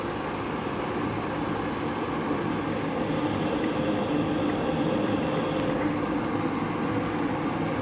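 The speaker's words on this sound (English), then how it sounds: "You hear the sound of the boiling." Electric digital water kettle heating cold water toward a boil, a steady dense rumbling hiss that holds constant throughout, close and moderately loud with no voices.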